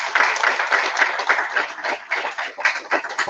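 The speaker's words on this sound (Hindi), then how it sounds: "तो इसके लिए एक बार बहुत जोरदार तालियां" An audience at the National Institute for the Visually Handicapped on Rajpur Road applauds a Padma Shri award winner: lively, uneven clapping from a crowd that swells and dips without pause.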